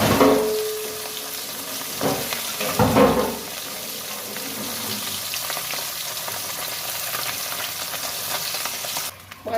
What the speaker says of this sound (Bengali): দুটো পাবদা মাছ আছে, ভেজে নেব।